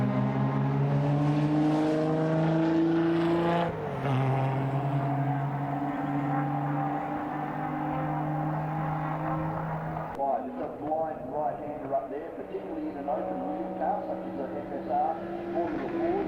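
Race car engines roar at CARCO circuit during a Valvoline Cup sporting car club race, a steady droning note shifting pitch as cars run past, under continuous commentary.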